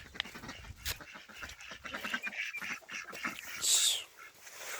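Ducks quacking on a farm among chickens and a rooster, a busy run of short nasal calls with a louder burst near the end, over faint rustling and movement.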